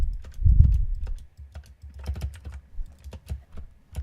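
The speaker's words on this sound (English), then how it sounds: "So then you just go across while drag clicking" Rapid drag clicking on a computer mouse while placing blocks in Minecraft, a fast, dense patter of small clicks with one heavier knock near the start, close and dry.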